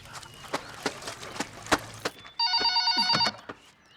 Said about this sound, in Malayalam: ഫോൺ അടിക്കുന്നുണ്ട്, ചെല്ല്.